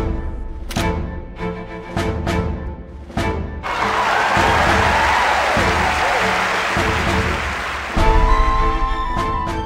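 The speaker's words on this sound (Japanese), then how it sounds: "観客の歓声に応えようではないか" A video game crowd in Mana Khemia cheers at a dance tournament, with a sustained swell of applause and crowd noise in the middle after a few sharp clacks, and game voices talking around it.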